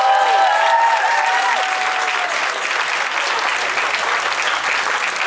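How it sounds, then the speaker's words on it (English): Loud audience applause at a concert for an accordion, stompbox and electronics player, dense steady clapping that begins over fading instrumental tones and continues strongly throughout. "Please give him some applause."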